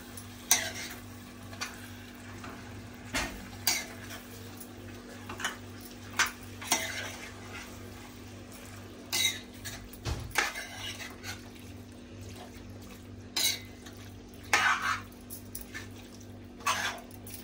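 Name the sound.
stirring squid rings masala in pan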